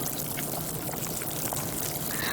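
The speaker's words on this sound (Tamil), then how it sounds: "இங்கே பாருங்கள், ரசம் நல்லா கலன்னு கொதிச்சிட்ருக்கு." Tomato rasam bubbling in a clay pot on the stove, giving a dense, continuous seething and popping that stays steady and fairly close throughout.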